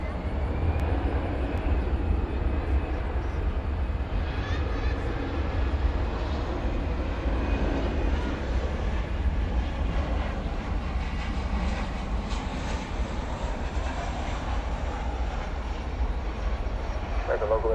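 American Airlines jet from LaGuardia arriving at night at DFW airport: a steady, loud broadband roar of jet engines that holds evenly throughout, with faint radio voices mixed in.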